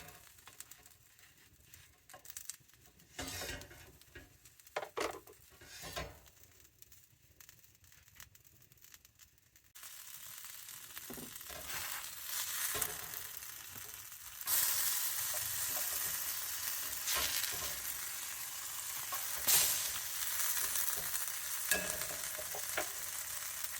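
Food fries in a skillet with a soft sizzle and scattered handling clatter at first, then the sizzling swells into a louder, steady crackle that continues to the end.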